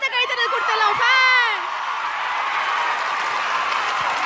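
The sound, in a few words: fans applauding at a fan meet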